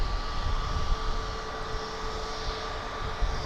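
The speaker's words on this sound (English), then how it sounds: "And here comes American Flight 520 going to Phoenix." An American Airlines airliner bound for Phoenix passes at Dallas Fort Worth airport with a steady, moderate jet engine drone and a faint tonal whine over a low rumble.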